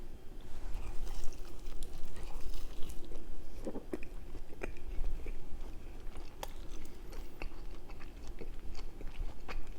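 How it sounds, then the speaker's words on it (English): Someone bites into and chews a Chipotle quesadilla topped with sour cream, giving soft continuous close-up mouth sounds with occasional small crunchy clicks and no speech. "Just put a little bit of sour cream just for that first nice bite"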